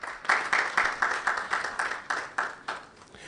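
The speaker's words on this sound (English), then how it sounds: "Please, another round of applause for Primetime, ladies and gentlemen" Applause at an education event launch comes as evenly paced, rhythmic claps, about a dozen in a row, moderately loud against a quiet room.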